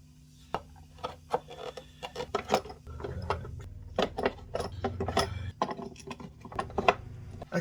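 Small metal clamps click, rattle and tighten one after another on a violin body being glued in a workshop, a busy run of close, light clanks and ratcheting taps.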